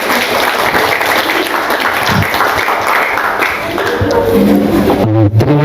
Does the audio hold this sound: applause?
yes